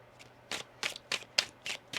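Tarot cards are being shuffled by hand. Six crisp riffling bursts come close up in a steady rhythm, separated by short pauses, over a faint low hum. Nobody speaks.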